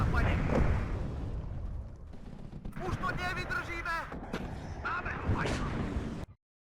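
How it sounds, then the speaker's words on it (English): Massed machine gun fire and battle noise in the real-time strategy game WARNO, a dense, steady roar of rapid shots and explosions lasting several seconds under a speaking voice before cutting off. "That is a lot of machine guns."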